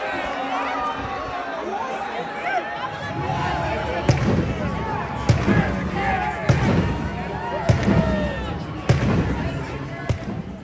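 Stadium cannons fire sharp booming blasts repeatedly at the NFL Draft after the Tampa Bay Buccaneers' first-round pick, over a loud, restless crowd murmur, with bursts of chatter and shouting underneath.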